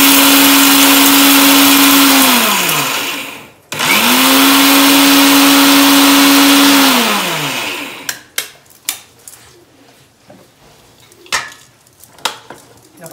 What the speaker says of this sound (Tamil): சாம்பாருக்கு அரைக்கிற மாதிரி நம்ம கொஞ்சம் கோர்ஸாக இதை அரைச்சிருக்கோம்.